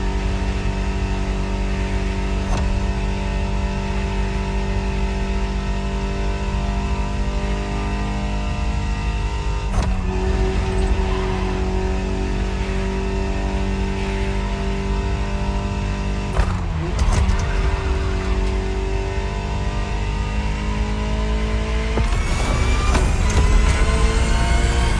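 Ferrari supercar engine in the driving game The Crew Motorfest, a steady loud drone holding through a long stretch, with brief gear-change dips and a rising rev near the end.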